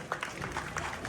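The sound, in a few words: audience applauding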